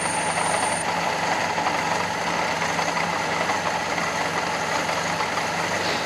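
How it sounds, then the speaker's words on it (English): A Fiat Panda 4x4 engine running with a noisy clutch bearing and a misfire, firing on only two cylinders, gives a steady, close, rough idle with a constant whirring, grinding tone and no talking. "That clutch bearing sounds terrible"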